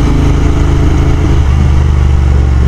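A Royal Enfield Continental GT 650 engine drones loud and close while riding, a steady low throbbing rumble with slight pitch wavers and no voices.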